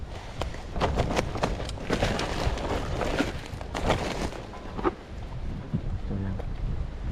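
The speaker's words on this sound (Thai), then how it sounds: "และลมก็แรง" Strong wind buffets the microphone while people are fishing from a boat. Loud, continuous rumbling gusts fill most of the clip and ease toward the end, with people talking under the noise.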